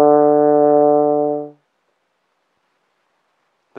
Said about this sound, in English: D sounds like this.